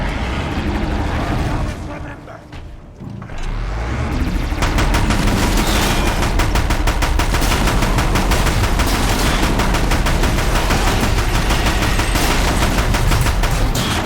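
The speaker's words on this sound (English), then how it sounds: "Let's grab that Deathbringer gun and have at it." The Deathbringer heavy gun in Horizon Zero Dawn firing in a long, dense, continuous stream of rapid shots over roaring game noise, after a brief lull with a voice.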